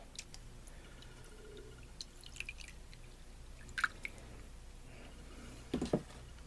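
Water drips from leaks in an etching tank: sparse, quiet drops and small splashes over a faint background hiss, with a couple of louder drips near the end.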